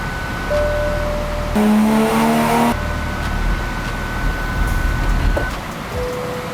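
A Toyota A90 Supra fitted with an AEM intake on a dyno, its engine droning steadily, with a brief louder rising surge partway through, then settling back to a steady hum.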